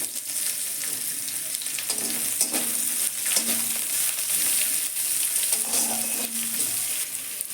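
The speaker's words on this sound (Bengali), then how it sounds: "এবারে আমি পেঁয়াজটা দেব পেঁয়াজটা দিয়ে দিলাম" Onions fry in hot oil with cardamom, cinnamon and cloves, giving a constant close sizzle with occasional stirring scrapes and clinks from the pan, and no voices over it.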